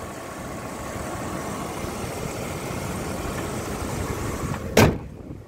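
A 1996 Ford F150 XLT 4x4 pickup with a 5.8 engine idles steadily and close, a smooth continuous rumble, ending with a sharp knock near the end.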